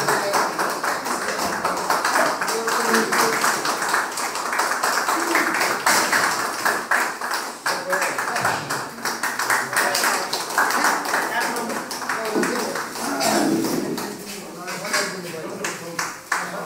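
Audience applause at a Darjeeling police band farewell, a sustained patter of many hands clapping close by, rising and falling over the whole stretch with voices mixed in.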